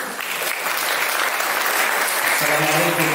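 A room full of people claps steadily at a youth political school event, even and continuous, with a voice beginning to speak near the end.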